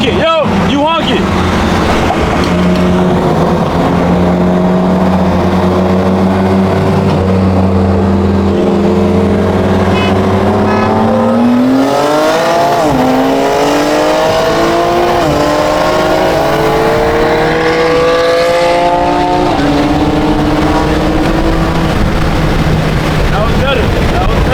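A BMW F82 M4 and a G80 M3 CS accelerate hard in a roll race at a car meet, engine notes climbing through the gears with wind buffeting and voices talking over them.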